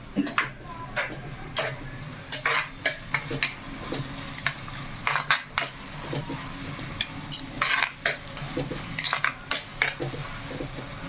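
Onions frying in a clay pot for a chicken dish, with a low background sizzle broken by repeated scraping stirs and light utensil knocks, close and fairly quiet.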